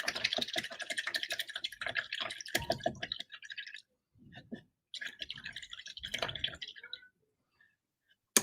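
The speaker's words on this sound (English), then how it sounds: "Let's rinse out the brush." A paintbrush sloshed and swished in a cup of water during a watercolour flower painting session, giving close, wet dripping and squishing bursts that pause briefly and then resume, with no one talking.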